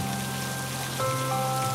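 Steady rain hisses evenly throughout, with faint sustained musical tones underneath and no voices.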